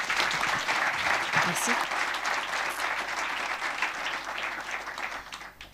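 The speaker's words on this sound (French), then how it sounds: "vous pouvez applaudir" Sustained audience applause at a French youth and comic-book season presentation, steady clapping throughout with a brief spoken thanks over it.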